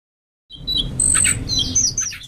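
A hill blue flycatcher, known as teledekan or anis bimbin, sings a run of bright, high whistled phrases and trills, close and clear over a low background rumble.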